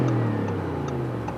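An Audi RS7 engine with a factory exhaust sits in neutral at a red light, giving a steady, deep, close-up engine drone that holds an even pitch throughout, with faint ticking over it and no voices.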